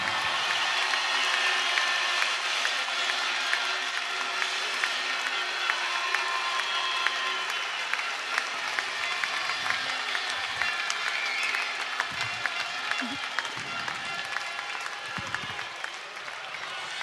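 A sports crowd applauds and cheers after a penalty late in a game, a dense, steady wash of clapping that continues for the whole stretch, with a faint voice now and then.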